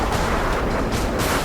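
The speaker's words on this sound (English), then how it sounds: "The F-15 fires a barrage of rounds into the peak." An F-15 fighter jet fires a barrage of rounds into an enemy position on a mountain peak, a dense, loud, continuous rumble of rapid gunfire and impacts with no voices.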